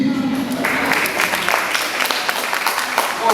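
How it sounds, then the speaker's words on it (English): Applause from an audience breaks out after a brief voice, a dense patter of clapping that continues steadily to the end. "give Big Mouth Ben a round of applause"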